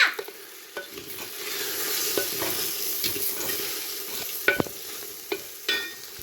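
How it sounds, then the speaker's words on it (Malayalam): A utensil scrapes and stirs okra curry with turmeric and salt in a hot pan, with irregular clinks and scrapes over a constant soft sizzle. "നല്ലോണം ഇളക്കുക."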